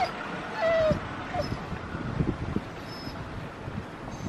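An excited dog whimpers outdoors in short high whines and yips, one longer whine early on, over wind noise on the microphone.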